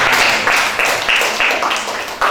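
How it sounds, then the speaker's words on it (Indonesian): Classroom applause from a group of students, steady dense clapping with brief pulses, loud and close throughout. "Beri tepuk tangan yang mulia kepada saya"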